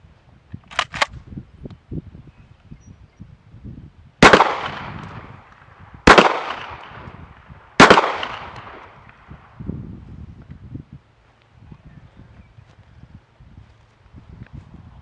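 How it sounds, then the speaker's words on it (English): A Mossberg 930 SPX 12 gauge shotgun fires slugs at an outdoor 25-yard range: three loud, sharp shots spaced about two seconds apart, each with a ringing decay, and soft shuffling and rustling in between. "I'm just going to run 3 rounds through it, see how it groups"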